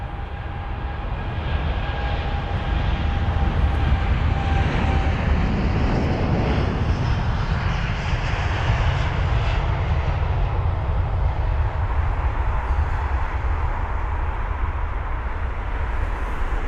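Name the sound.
Virgin Boeing 787-9 Dreamliner jet departing Heathrow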